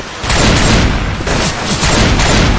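Loud, dense gunfire from people shooting at each other, a continuous rapid fusillade of overlapping shots with booming low end, close and saturated throughout.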